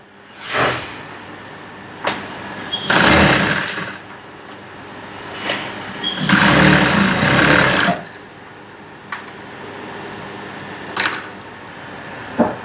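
Sewing machine stitching a double-colour tote bag in short bursts, with two long loud runs of stitching separated by quieter pauses and a few sharp clicks, close and alone without talk.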